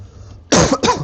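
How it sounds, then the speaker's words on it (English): Two sharp, loud coughs close to the microphone, one right after the other, following a brief quiet moment. "Sorry about the cough."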